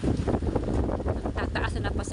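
Strong typhoon wind roars and buffets the microphone steadily at the coast, with a person talking underneath the gusts.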